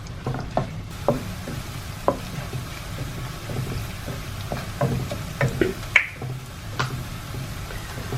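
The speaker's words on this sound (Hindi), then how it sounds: "इसे गोल्डन ब्राउन होने तक हम इसे सौते करते रहेंगे।" Onions sauté over a high flame in a pan with a pinch of salt, the spatula stirring them in a steady run of close, crisp scraping clicks over a soft sizzle.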